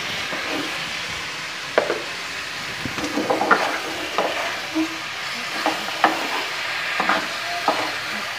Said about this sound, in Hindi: अब मैं इसमें 2 टमाटर दरमियानी साइज़ का मैंने काट के रखा है, चॉप करके, वो मैं इसमें डालती हूँ।